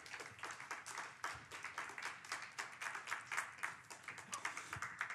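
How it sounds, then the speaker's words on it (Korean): A church congregation at a worship service applauds to welcome a pastor, with a faint, distant patter of many hands falling into a loose, rhythmic beat that carries on throughout. "우리 큰 박수로 환영해 주시기 바랍니다."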